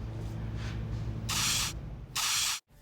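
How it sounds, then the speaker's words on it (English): Two sharp bursts of spray gun hiss, each about half a second, spraying white base coat on a truck, over a low steady background hum that cuts off abruptly at the end. "spray the white base coat"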